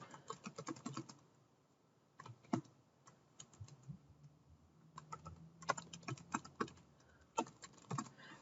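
Typing on a computer keyboard while setting up a PowerPoint slide, with bursts of quick key clicks separated by a pause. The clicks are fairly close and light, with a faint low hum beneath them in the middle of the clip.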